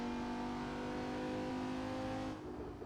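A race car in a racing simulator video game accelerates hard, its engine note climbing steadily and loudly for a couple of seconds before easing off abruptly near the end.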